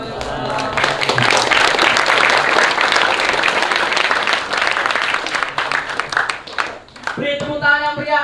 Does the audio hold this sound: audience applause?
yes